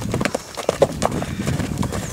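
Hooves of a black purebred Lusitano mare clip-clop in an uneven rhythm on hard ground, close by, with a few brief sounds from the horse between steps.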